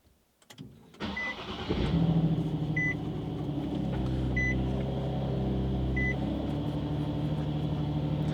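Stock-exhaust Nissan Z, in neutral on a lift, cold-starts with a brief crank, then settles into a steady, quiet idle around 1500 RPM, a low smooth hum with a few short electronic chimes sounding over it.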